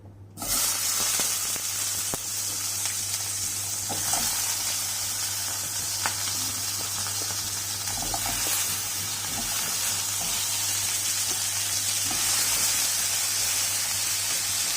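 Five medium Bangalore tomatoes sauté in a nonstick pan, giving a steady, close sizzle and frying hiss that runs unbroken with faint stirring scrapes and no talking.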